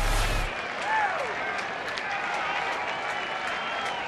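Baseball crowd at a Toronto at Texas game roaring and cheering steadily, a dense wash of applause and voices that stays loud and continuous throughout, with a whistle-like tone rising briefly early on.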